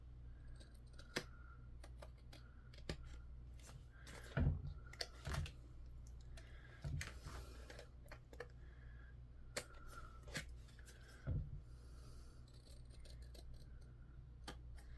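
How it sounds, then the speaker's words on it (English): Quiet crisp snips of scissors trimming overhanging paper along a card's edge, a series of short sharp clicks scattered irregularly over a steady low background hum. "line my scissors up with the edge, and just cut off any of the overhang"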